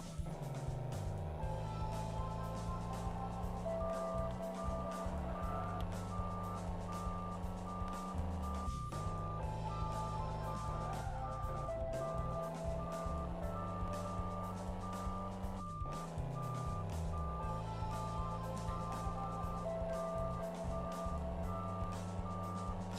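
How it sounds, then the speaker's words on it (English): Steady repeating electronic beeps over a droning engine-like hum and music in an Atari VCS driving game as fuel runs low, continuous and loud throughout. "what's that beeping noise?"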